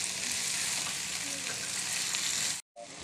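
Onions fry for a chicken curry with khara masala, crackling in a steady, fairly loud sizzle that briefly cuts out near the end and then resumes, with no voices.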